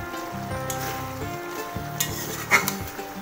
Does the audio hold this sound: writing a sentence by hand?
no